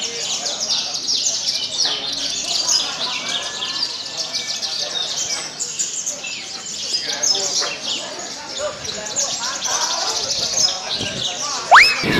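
A young Javan bushlark, a caged songbird, sings a busy stream of bright chirps and trills, loud and close, with brief talk from people nearby.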